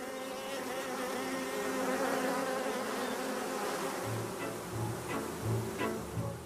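Honeybees drone in a steady, dense buzz that runs the whole time at moderate volume, with a few louder wingbeat surges passing close near the end.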